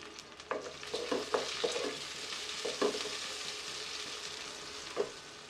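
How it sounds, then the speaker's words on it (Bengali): Chopped onions fry in hot mustard oil in a pan, a steady close sizzle broken by several soft stirring scrapes and clicks, with no talk over it. "এর মধ্যে আমি এক কাপের মতো পেঁয়াজ কুচি দিয়ে পেঁয়াজটাকে ভেজে নিব"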